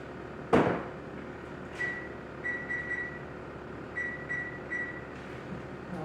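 An oven control panel being set to preheat to 375 in a home kitchen gives a string of short, clear electronic beeps in irregular groups, preceded by a soft clunk, with faint room hum and no talk.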